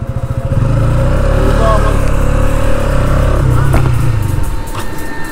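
KTM Duke 200 BS6 motorcycle engine running close by, a loud, steady low throbbing idle with a slight rise in revs midway, while someone speaks over it.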